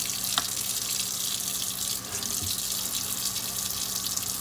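Warm water runs steadily from a faucet into a sink, a continuous close hiss and splash with a small clink near the start.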